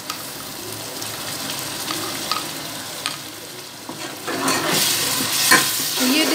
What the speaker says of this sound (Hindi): अब हम इसमें लहसुन अदरक का पेस्ट डालकर मज़ीद इसको फ्राई करेंगे।